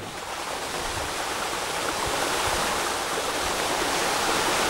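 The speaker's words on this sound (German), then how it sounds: "So, ihr könnt nun sehen, wie das Gerät arbeitet. Die Schaufeln drehen sich und bewegen das Wasser." A surface aerator's rotating paddles churn pond water into a steady, dense rushing splash, loud and constant throughout with no voices.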